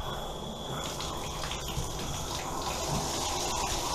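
Water runs steadily from a bathtub spout with a diverter just fitted during a leaking-spout repair, a continuous close rushing gush that holds at even loudness throughout, with no talking.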